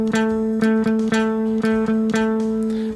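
Electric guitar picking a syncopated 16th-note three-note rhythm cell, the same clipped chord figure repeated about ten times in a tight, steady groove, loud and close.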